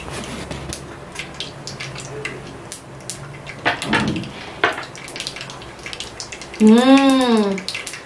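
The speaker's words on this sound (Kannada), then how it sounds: "ಸಿಡಿತಾ ಇದೆ ಚಟಪಟ ಅಂತ." Mustard and cumin seeds splutter in hot oil while tempering a fish curry, with scattered sharp crackling pops and a brief voice near the end.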